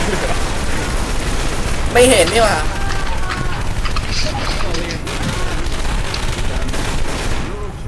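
Gunfire in the video game Left 4 Dead 2, rapid bursts and continuous shooting running throughout, loud and close, with players talking over the action.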